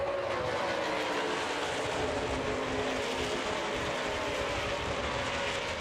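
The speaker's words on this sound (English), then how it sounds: "Takes about a half or 2/3 a lap to get these cars up to full speed" NASCAR race cars accelerating toward full speed at Daytona during the 2009 Camping World 300, a steady, broad engine roar sustained throughout, distant and fairly faint with no voices.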